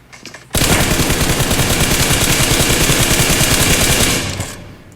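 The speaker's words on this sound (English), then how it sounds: "And more shots being fired by Tilted towards Team 19." Automatic gunfire in the battle royale game PUBG, a loud continuous rapid burst lasting about three and a half seconds before cutting off, close and dominant, with no speech.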